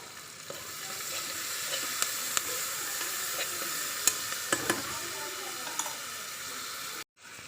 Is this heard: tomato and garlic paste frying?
yes